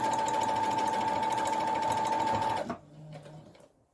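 A sewing machine stitches fabric for a tote bag with a steady, close whirring run that stops abruptly near the end, followed by a brief faint mechanical hum.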